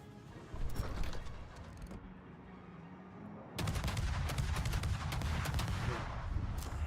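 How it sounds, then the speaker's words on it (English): Warship guns firing a burst in the World of Warships video game: a heavy booming salvo hits, settles into rumbling, then a second, louder barrage erupts and keeps roaring with crackling impacts. "Fire off a burst fire shot"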